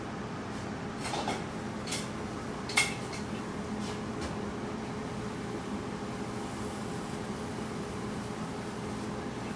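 Zucchini going into a pan with onion to cook: clinks of utensils on the pan, one sharp metallic knock, and a steady low background hiss, with no voices.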